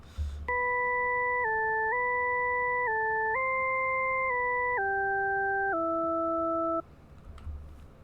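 A synth lead from the default sine preset of the 3x Osc in FL Studio, playing a slow melody of held, pure notes that step up and down, clean and steady, alone for several seconds before stopping.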